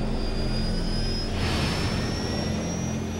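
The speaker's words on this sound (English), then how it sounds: "Jet engines firing downward cancel out most of the vehicle's weight to approximate lunar gravity." Downward-firing jet engines of the Apollo lunar landing training vehicle, the flying bedstead, roar in a loud, steady whine and rush that swells briefly midway, with no talking.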